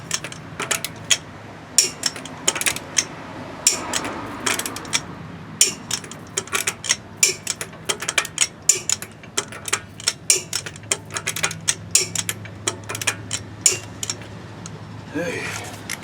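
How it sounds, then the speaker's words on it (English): Lug nuts on a car's wheels being hand torqued in a busy repair shop, heard as a steady run of sharp metallic clicks and ticks, some close and loud, with faint shop noise and occasional talk beneath. "Let's try to hand torque all the wheels here."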